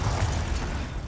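A Glacius ice spell cast in Hogwarts Legacy, heard as a single loud, dense magical burst with a heavy low rumble that fills the short moment.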